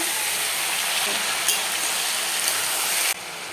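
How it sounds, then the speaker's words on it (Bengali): Potatoes, corn and chickpeas fry for ghugni with a steady, dense sizzle and hiss that runs nearly unbroken, with a couple of faint pops, then drops slightly quieter near the end. "ভুট্টা আর ছোলাটা দিয়ে ভেজে নেব"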